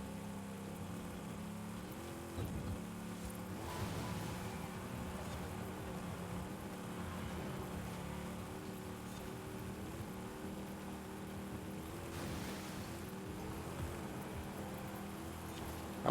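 Car engine in Forza Horizon 5 revving high toward the top of its range on a 450hp spec series race car, a sustained droning whine with shifting pitch and no talk.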